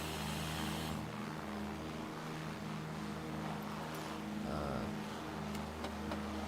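A propeller airplane engine in Microsoft Flight Simulator runs up to takeoff power, a steady droning hum that swells and holds loud throughout, with no talking.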